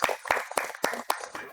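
Scattered clapping from a studio audience at a Betawi lenong comedy stage show, a few loose claps in uneven bursts, fairly faint and thin rather than a full ovation.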